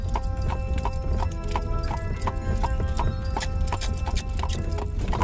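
A horse clip-clops along at a steady walk, its hooves striking in an even, close rhythm against a constant low rumble of travel at about nine miles an hour.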